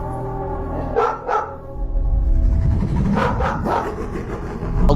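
A family dog reacts in a played-back home recording, giving a couple of short barks or yips followed by whimpering sounds over a rumbling, noisy room background.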